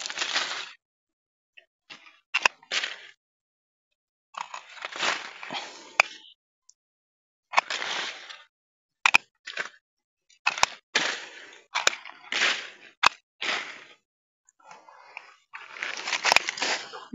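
A stem cutter snips tree branches during pruning in a series of sharp, close clicks and snaps, separated by rustling leaves and short quiet gaps.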